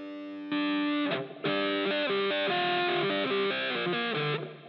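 A distorted electric guitar plays sustained chords and a short riff, with a honky, nasal midrange tone from a 16 dB EQ boost at 1200 Hz, loud and alone.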